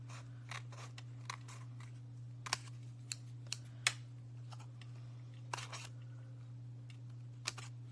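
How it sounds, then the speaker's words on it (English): Scissors snip through glimmer paper while a Christmas card is being made: a scattered series of short, faint cutting clicks, some clustered in quick pairs, over a low steady electrical hum. "I'm just going to cut it off with my scissors"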